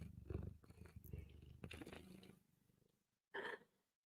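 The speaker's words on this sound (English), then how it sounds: "You want to purr on the mic?" A cat purrs softly right up close to a microphone, a faint low steady purr that ends in a brief louder sound.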